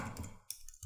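Typing on a computer keyboard while searching online, a short run of soft, close keystrokes with a few sharper clicks, faint and brief with no talk.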